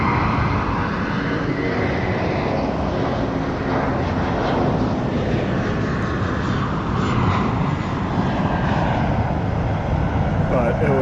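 A fixed-wing airplane taking off from an airport, a loud, sustained engine roar and rushing jet noise that holds steady throughout, heard from nearby outdoors.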